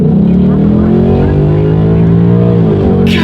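A 2019 Ford Mustang GT with an X-pipe exhaust roars loudly from inside the car as it drives fast, the engine tone rising and holding steady before briefly easing off.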